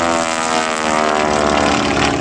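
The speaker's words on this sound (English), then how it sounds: "The aircraft was actually for the sound of the big Lysander R680 radial engine" Travel Air Mystery Ship's 300-horsepower Lycoming R680 radial engine roaring loud and steady at an airshow, a close, constant propeller drone with no pauses.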